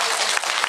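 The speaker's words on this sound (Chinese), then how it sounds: "要不要给我一个掌声？" A short burst of audience applause at a Taiwanese association talk on non-toxic products and food safety, a dense, even patter of many hands clapping at once.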